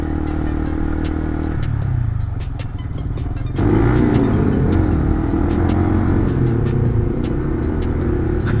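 A modified Yamaha Vixion motorcycle engine runs steadily close by during a test ride in slow afternoon traffic, with a loud continuous drone that rises in pitch and strength partway through as the throttle opens.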